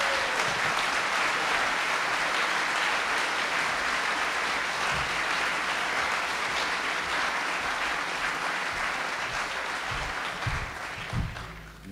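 An audience applauds at a New Yorker cartoonists' event: dense, steady clapping from a full room that holds for about ten seconds and then thins slightly toward the end.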